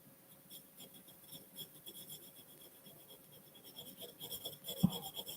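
HB pencil shading on paper in steady, soft scratchy strokes, faint and close, with a slightly louder scrape near the end.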